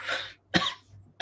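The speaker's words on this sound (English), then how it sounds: "Just made myself cough." A person outdoors coughs three times close by, two sharp bursts then a third, with brief quiet between.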